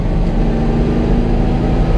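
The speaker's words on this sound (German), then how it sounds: "Also da kann man richtig Gas geben mit dem Auto." A 1958 Porsche 356 A, a 135 PS car built by Emory Motorsports, revs loudly under acceleration, its engine note a close, continuous growl that stays strong across the short stretch with no talking.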